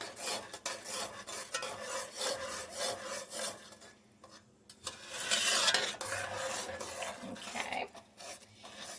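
A metal spoon stirs pectin and sugar for Christmas jam, producing soft scraping and rubbing strokes in an uneven rhythm, close and fairly quiet, with a brief louder scrape partway through.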